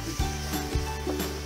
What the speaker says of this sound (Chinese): 爆香了以后呢，我们就把肉倒进去里面炒一遍